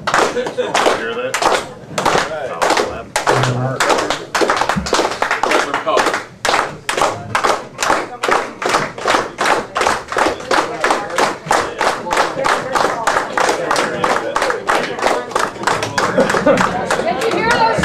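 An audience at a railroaders' gathering does a power clap, many hands striking together in a steady unison rhythm that speeds up over about eighteen seconds, loud and close, with cheering and voices mixed in.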